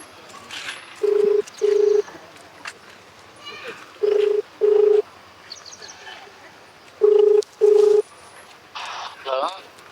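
A phone number is keyed in as three pairs of clear, steady touch-tone beeps, each pair a couple of seconds apart, with low talk and background chatter running underneath.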